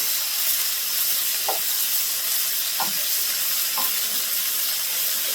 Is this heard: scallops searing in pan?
yes